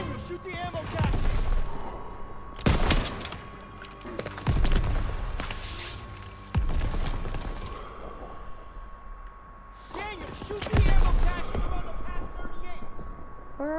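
Gunfire and explosive blasts in the World War II shooter Call of Duty: WWII, Operation Cobra trench fighting with tanks nearby, landing as several loud, broadband bursts spaced a few seconds apart over a continuous din of battle and voices.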